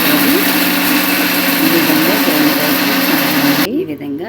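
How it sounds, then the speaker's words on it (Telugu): A mixer grinder grinds cooled cumin and fenugreek seeds, giving a loud, close, continuous motor whir that cuts off abruptly near the end. "చల్లార్చుకున్న జీలకర్ర మెంతుల్ని గ్రైండ్ చేసుకోవాలి."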